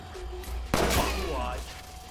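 A single loud gunshot bursts out in the Watch Dogs 2 video game, a sharp crack followed by a short ringing decay, amid quieter game ambience.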